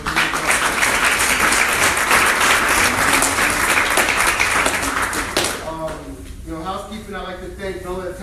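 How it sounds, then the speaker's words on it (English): Steady, dense audience applause at a scholarship signing-day ceremony in a restaurant dining room fills the first five seconds, then fades as a voice begins speaking. "another round of applause for him"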